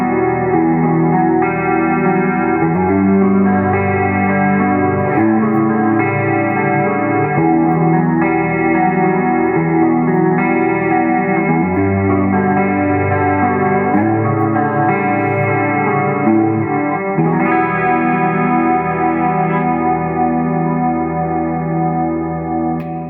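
An electric guitar plays clean chords and picked notes through the Kiesel K-Series M12 SD bridge pickup, unsplit, with a bright, slightly effected tone, steady and close, with no voices.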